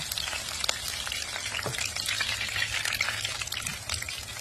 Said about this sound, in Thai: ทำกุ้งทอดนะ มาทำกุ้งทอดกันค่ะ